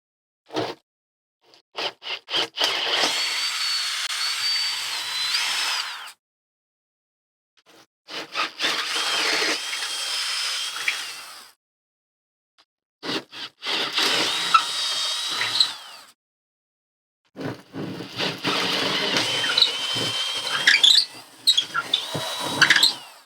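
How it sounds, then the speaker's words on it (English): A power drill with a larger bit bores a hole for an AV table box in four long bursts separated by pauses, whining, bright and grinding, close up. "Get it in the drill straight."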